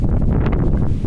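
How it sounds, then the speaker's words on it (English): Wind gusts across a microphone on an upper city street, a loud, close, continuous low rumble and buffeting that lasts only a moment. "And we're getting wind."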